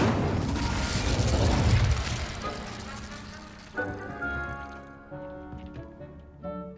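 An Incendio fire spell is cast in Hogwarts Legacy, first as a loud rushing, roaring burst, then fading into a ringing magical shimmer with short chimes, and no talking.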